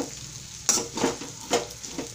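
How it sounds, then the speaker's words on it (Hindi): Sabudana khichdi with peanuts and lemon juice being stirred in a heavy-bottomed kadai, soft sizzling under a few scraping spoon strokes about half a second apart, no voices. "इसे मिक्स कर दीजिए अच्छी तरह से।"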